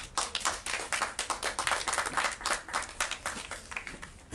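A small gathering at a playground naming ceremony applauds to welcome a guest, a close, irregular patter of a few pairs of hands clapping steadily without talk.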